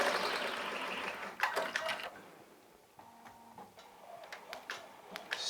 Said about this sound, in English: So stitching out the design, looking good.